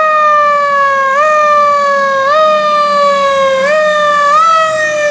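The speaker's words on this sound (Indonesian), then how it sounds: "Widih, mobil pemadam kebakaran." A fire engine's loud siren wailing steadily, its pitch stepping up every second or so in a repeating pattern, with low traffic rumble underneath.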